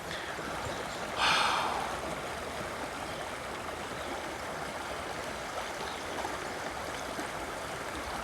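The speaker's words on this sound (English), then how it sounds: "Waterfall, just the river," A waterfall and river produce a constant, dense hiss of rushing water, with a brief brighter splash or breath-like burst near the start, otherwise unbroken and even.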